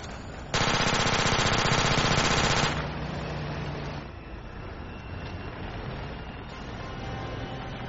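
Heavy machine gun fire in a desert forward-operating-base video game, a loud continuous rapid burst lasting about two seconds, then fading into a lower rumbling game ambience.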